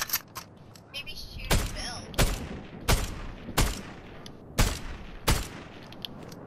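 Heavy single gunshots from a gun in the video game Fortnite, about seven sharp, loud cracks fired at an uneven, deliberate pace, each trailing off briefly before the next.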